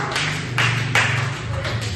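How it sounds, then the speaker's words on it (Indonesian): A small group claps in a classroom, several loose, uneven bursts of hand claps over a steady low hum, moderately close. "Tepuk tangan untuk kita semua."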